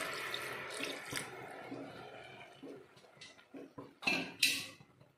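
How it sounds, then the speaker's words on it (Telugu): A lid is set onto a cooking pot in a kitchen: faint clinks and water trickles, then two loud, bright metallic clanks close together near the end. "ఇప్పుడు మూత పెట్టుకుందాం"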